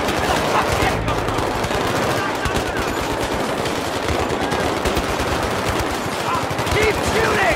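Sustained automatic gunfire from Battlefield 3 combat, dense rattling bursts and overlapping shots that stay loud and continuous throughout, with shouting voices mixed in.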